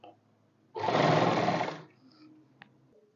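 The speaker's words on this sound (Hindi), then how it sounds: "अब आप सीधा कर सकते हो गले को इस सिलाई में" One short burst of sewing machine stitching along a kurti neckline, close and steady for about a second before stopping, with quiet room sound before and after.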